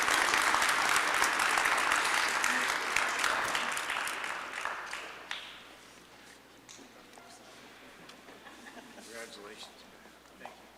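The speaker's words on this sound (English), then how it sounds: "Can we give a round of applause for Matt?" An audience at a mayor's community service awards ceremony applauds an award recipient, a dense burst of clapping that gradually fades and thins out into scattered claps and murmuring.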